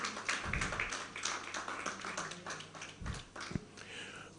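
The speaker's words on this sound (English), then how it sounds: "let us put our hands together for Mr. Jola Akinwande, partner," Applause at a managing partner roundtable event, a crowd clapping steadily for a few seconds with dense overlapping claps and a couple of louder nearby hits.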